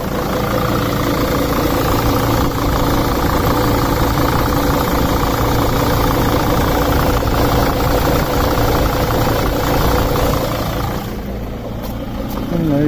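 A 2006 Dodge Sprinter 2500 with a 2.7-liter turbo diesel idles loudly and steadily close by, its rough, even rumble running throughout, with a faint shift near the end as the AC compressor clutch engages.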